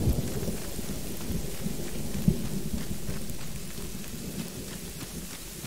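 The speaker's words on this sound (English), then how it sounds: "Right, here comes thunder." Thunderstorm in a zombie survival game: steady heavy rain hissing throughout with a low rumbling roll of thunder, fairly loud and enveloping, no voices.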